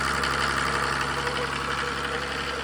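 A Mercedes OM603 3.0 diesel powering an irrigation pump runs steadily at close range, a loud continuous knocking drone with a constant even rhythm and no pauses.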